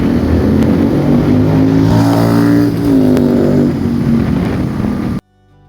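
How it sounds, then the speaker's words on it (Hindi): A loud motorcycle engine revs up and down in a couple of surging waves, steady and close, then cuts off abruptly near the end, on a rainy ride. "और आप बाइक की आवाज़ तो सुन सकते हो,"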